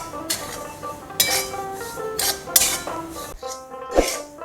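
Semolina dry-roasting in a pan on a stove over medium-low flame, with a spatula scraping and clinking against the metal in irregular light strokes while steady tonal music runs underneath.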